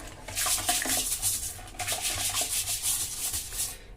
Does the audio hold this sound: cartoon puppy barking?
no